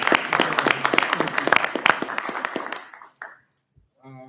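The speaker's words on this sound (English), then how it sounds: "I'll give you applause" A room of attendees at a police commissioners board meeting breaks into steady, dense applause that carries for about three seconds, then thins out and stops, leaving a short quiet gap before a voice starts speaking.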